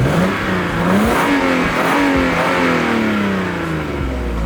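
The project car, set for a drift build, revs hard and loud. The engine note climbs and falls in several rising sweeps over a steady, rough roar, with no talking.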